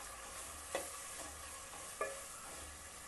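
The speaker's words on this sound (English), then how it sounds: "Stir for some time." Red chilli chicken is stirred in a frying pan, a faint, soft sizzle under two brief scraping knocks of the spoon against the pan, quiet and close, with no voices.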